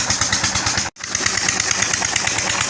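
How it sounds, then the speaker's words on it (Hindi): A farm borewell water pump engine runs loud and close with a steady rapid thumping beat, briefly cutting out for a split second before resuming the same chugging rhythm. "अभी चला लिया मैंने बोर और पानी लगाते हैं चलकर"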